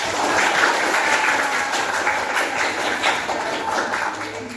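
Steady applause from a group, many hands clapping continuously at a fairly even level throughout.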